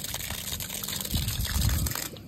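Water gushes steadily from a newly installed outdoor hose bib after the supply is turned back on, a close, loud, continuous splashing flow that swells slightly toward the end.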